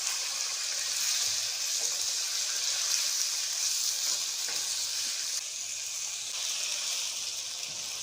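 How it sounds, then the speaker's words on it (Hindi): Chicken pieces frying in browned ginger garlic paste for biryani give off a continuous bright sizzle at close range, fairly even throughout, with no talking. "चिकन को अच्छे से हमने फ्राई कर लेना है।"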